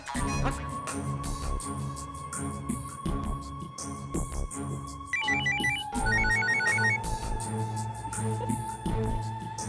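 A phone ringtone chimes in repeated electronic bursts over loud background music, bright and clearly audible.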